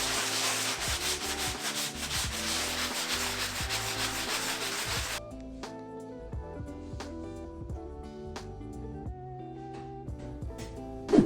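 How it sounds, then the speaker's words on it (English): Sanding down surfaces in a childhood bedroom during a makeover, a steady rough scratchy rubbing against wood that goes on for several seconds, then drops to quieter background noise with scattered knocks and clatter. "I'm just going to go ahead and sand everything down."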